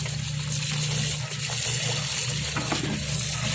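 Mangoes being rinsed with water on a farm, a steady continuous splash and gush of running water filling the whole moment without a break.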